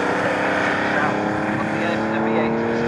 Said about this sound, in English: revving turbocharged engines, and they do not sound like V8s at all.